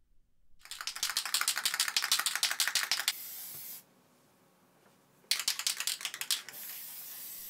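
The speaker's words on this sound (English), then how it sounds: "we now need to protect the figure with a matte varnish, and I'm using Testors Dullcote for this." Testors Dullcote matte varnish hisses from a spray can onto a painted miniature figure in two bursts, each a loud, pulsing spray of rapid spurts, separated by a short pause.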